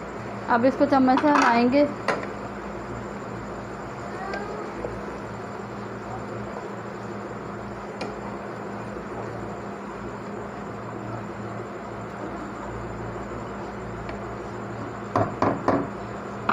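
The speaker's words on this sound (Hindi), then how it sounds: "अब इसको चम्मच से हिलाएंगे।" A spoon stirs black pepper chicken with cumin in a pot, with scraping and clinking of metal against the pot, loudest at the start and again near the end, under quiet background hiss and occasional talk.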